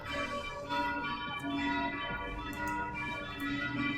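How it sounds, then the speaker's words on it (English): Church bells ring in the video game Torment: Tides of Numenera, a sustained, resonant tolling that hangs steadily over a dense ambient background with no talking. "I have no clue why the church bells are ringing."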